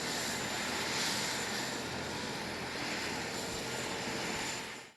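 A firefighters' helicopter searching over a river sends a steady, continuous engine and rotor roar that stays loud throughout and fades at the very end, with no talk.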